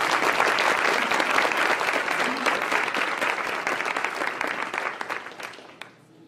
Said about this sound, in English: I think he deserves another wonderful round of applause.